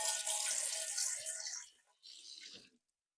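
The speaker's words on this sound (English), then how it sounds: "So anyway, just rinse this out." Tap water runs into a kitchen sink while a container is rinsed out, a bright splashing hiss for about two seconds, a brief pause, then a shorter burst of running water.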